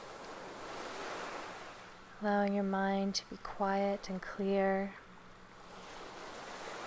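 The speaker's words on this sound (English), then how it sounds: "Listening to the sounds of the waves, and as the waves come into the shore" Waves lap steadily on a lake shore, a continuous soft wash that runs the whole time, while a calm voice speaks briefly over it in the middle.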